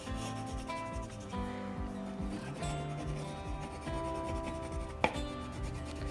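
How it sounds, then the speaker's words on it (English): A colored pencil rubs across paper in repeated short, scratchy strokes, close and soft, with a faint tonal backdrop and one sharp tap near the end. "I like to listen to the sound that this pencil makes as I color."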